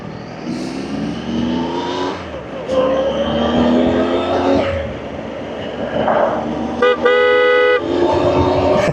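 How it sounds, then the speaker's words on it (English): A loud vehicle horn honks on a foggy road by a cafe, a sustained blare near the end over engine noise and passing traffic, with a person talking earlier. "Loud horn."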